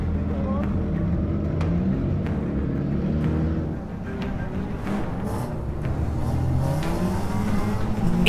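Race car engine on track during a first race, heading into a corner: a loud, continuous close-up engine drone that holds steady with slight surges in pitch.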